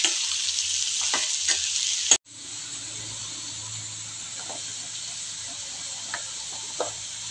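Bottle gourd kootu ingredients sauté in a pan with a bright, steady hiss and sizzle. A brief clatter and a sharp cut come at about two seconds, and light stirring taps follow.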